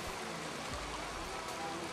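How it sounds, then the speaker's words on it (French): The torrential Monne river rushing through its gorge, a steady, dense broadband wash of flowing water, continuous and fairly faint, with no distinct splashes standing out. "Nous descendons vers les gorges de la Monne, rivière torrentueuse"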